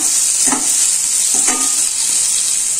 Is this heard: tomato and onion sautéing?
yes